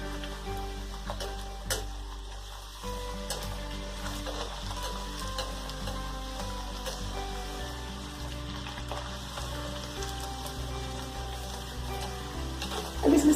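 Buckwheat-flour kachori fry in hot oil with a steady, close sizzle and bubbling crackle that runs throughout, joined by a faint tonal hum, with no one talking.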